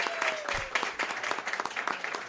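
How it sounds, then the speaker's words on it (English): An audience at a live dating game show applauds a contestant with brisk, continuous clapping at moderate loudness, and a faint tone sweeps briefly underneath. "Give her a round of applause, everybody."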